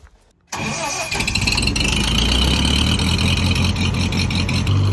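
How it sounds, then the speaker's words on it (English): A Continental four-cylinder engine cranks briefly after a moment of near silence, then catches and settles into a loud, close, steady running rumble. "What kind of engine is in that? Continental 4-cylinder."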